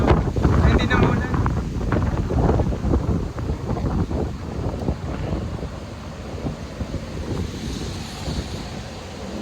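Strong gusts of wind buffeting outdoors, rumbling low and loud, with a person speaking through the blowing noise.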